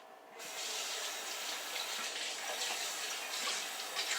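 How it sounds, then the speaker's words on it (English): Tap water runs steadily into a kitchen sink as hands are rinsed under it, a bright continuous splashing gush. It starts abruptly and stays close and fairly loud for a few seconds, with no voices. "Give my hands a quick rinse."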